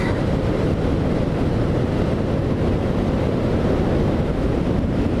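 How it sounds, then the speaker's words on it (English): Riding a Triumph T100 motorcycle, air blasts into the helmet as a loud, steady broadband rush that stays constant for several seconds with no voices. "there's so much wind coming up in my helmet, it's like making me snort"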